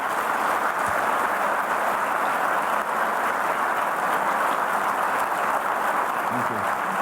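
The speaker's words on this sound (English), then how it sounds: "and a round of applause" An audience at a conference conversation with Kurdistan Prime Minister Masrour Barzani applauds with dense, continuous clapping that holds steady throughout.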